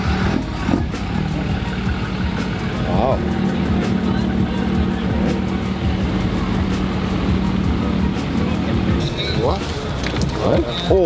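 A classic Mopar car with a Hellcat engine swap idles with a steady, deep, rumbling drone under loud crowd chatter, and people talk nearby throughout.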